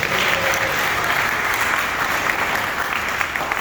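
Audience applause following a speech to Mandela Fellows, a steady dense wash of clapping hands that holds at an even level throughout without voices over it.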